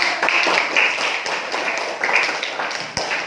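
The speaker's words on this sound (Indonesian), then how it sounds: "tepuk tangan" A classroom group claps at a teacher's prompt. The clapping is fairly close and brisk, with uneven bursts and taps, and children's voices are faintly audible under it.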